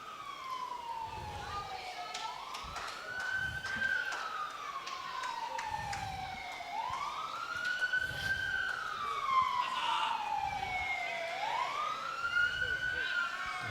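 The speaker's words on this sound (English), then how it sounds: "Sirens in the background." A police siren wails, rising and falling in slow repeated sweeps, steady and moderately distant, heard during a lawn bowls match, with a low rumbling underneath and some faint talk.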